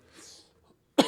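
A single short, sharp cough breaks the quiet near the end, close and abrupt, during a church worship service.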